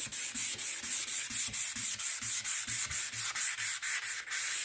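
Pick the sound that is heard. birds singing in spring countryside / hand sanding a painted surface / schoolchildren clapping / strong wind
hand sanding a painted surface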